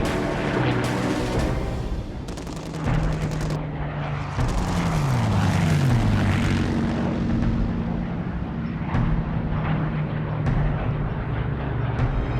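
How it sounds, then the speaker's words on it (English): WWII fighter and bomber formations over the English coast: a continuous loud drone of piston aircraft engines with shifting, sweeping pitch, punctuated by bursts that sound like distant gunfire or explosions. "With large numbers of fighter escorts sweeping ahead of them, the bomber formations cross the English coast."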